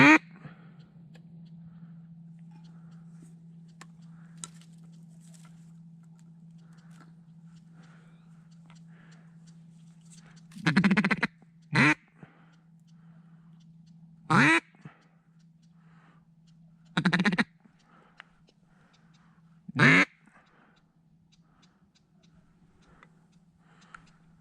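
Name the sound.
ducks quacking during a duck hunt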